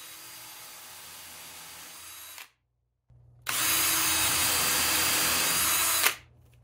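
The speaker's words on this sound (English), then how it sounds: "Now I'll run 2 screws on each side. Okay, so I'll just run my countersink bit down the middle here." Power drill with a countersink bit boring into wood of a van bed frame, a steady whine that stops briefly, then returns louder and sustained for about three seconds before cutting off, with no talking.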